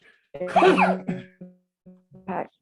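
A single sharp sneeze bursts out near the microphone, followed by brief voiced sounds and a short spoken word from the speaker.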